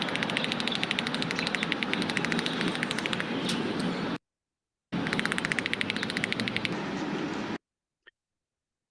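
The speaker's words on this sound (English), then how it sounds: "Listen to those teeth chattering." A squirrel chatters its teeth in rapid, dry clicking bursts, two long runs of close, fast ticks broken by a short silence, with a few faint clicks after them.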